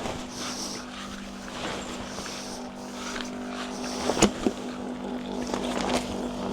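Steady motorized air pump drones while inflating an inflatable tent, holding a constant hum with a couple of brief louder bumps near the end as the tent fills completely.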